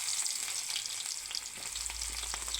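Onions hit a hot pan of oil with fenugreek seeds, giving a loud, steady sizzle and frying crackle with light stirring, close up and without speech.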